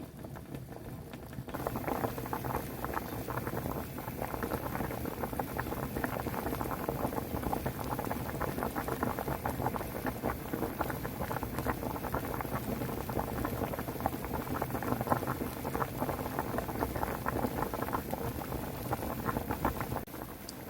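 A small pot of Korean beef ox-foot soup boils on lowered heat after two hours of simmering, a dense, steady bubbling and popping that carries on without break, close by and with no voices.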